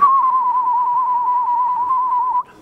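A person whistles a single steady, warbling tone imitating a birdcall by oodling, lasting over two seconds, clear and close, then stops.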